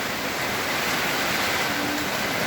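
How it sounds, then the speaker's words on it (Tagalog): Strong wind roars during a storm with heavy rain in the Philippines, a dense, constant rush of noise and no breaks. "Yun o, lakas ng hangin."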